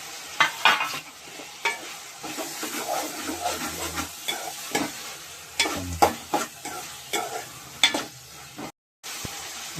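Onion, ginger paste and tomato fry in a pan, a steady sizzle broken by repeated scraping stirs and clatter of a spoon against the pan, close and fairly loud.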